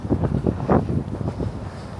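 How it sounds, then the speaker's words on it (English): Strong, gusty wind roars across an open walk on Randall's Island in New York City, buffeting the microphone in loud, uneven low rumbles with no one speaking. "It is very windy all of a sudden."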